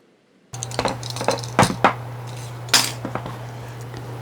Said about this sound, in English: I'm just taking my razor knife and cutting her body off.